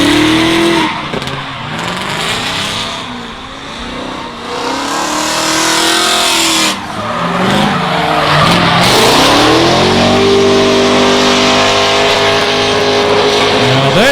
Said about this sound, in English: Now Isaac managing to produce lots of tyre smoke there, but a nice high wheel speed there.